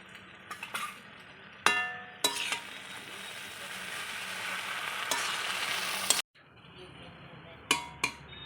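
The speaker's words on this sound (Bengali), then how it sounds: "তারপর একটা মশলা দেবো, দিয়ে ভালো করে ভেজে নেব।" Chow mein sizzles and fries in a pan while a spatula stirs and scrapes, with sharp metallic clanks and clinks at intervals over a steady hiss.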